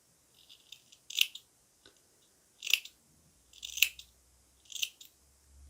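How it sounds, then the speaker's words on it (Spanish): Scissors snip away knitted wool yarn in four distinct, crisp cuts spaced about a second apart, close and quiet, with faint handling noise between them. "Vamos a retirar, cortando todo, con mucho cuidado de que no cortemos la lana en la que está el tejido."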